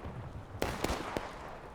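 Three sharp, distant cannon shots from a Napoleon field gun firing shells in The Blue and the Grey, a Civil War battle game, spaced unevenly over a low crackling background.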